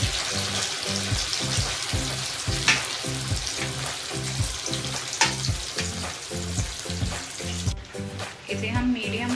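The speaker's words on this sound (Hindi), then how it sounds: "इसे हम मीडियम आंच पे इसको हम सुनहरा होने तक तल लेंगे।" Boiled arbi (taro root) pieces deep fry in hot oil over medium heat, giving a dense, continuous bubbling sizzle with occasional stirring clatter, close and loud throughout.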